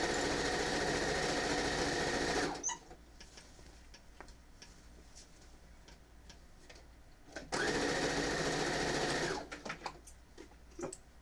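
A sewing machine stitches a quilt in two loud, steady bursts of rapid mechanical whirring, separated by a quieter stretch of faint ticks and handling clicks, with another brief clicking stop at the end.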